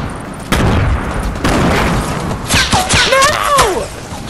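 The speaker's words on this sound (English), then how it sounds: "Yo, that shotgun's powerful." Shotgun blasts in Fortnite, two heavy booming shots spaced about a second apart, followed by busy game effects and squealing sounds.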